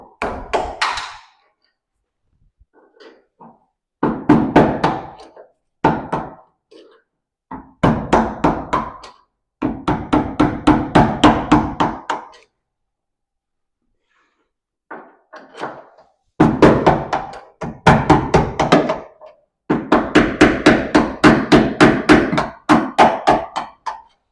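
Repeated hammer blows knocking a worn replacement bushing out of a classic car door hinge: bursts of rapid metallic strikes, close and loud, separated by pauses.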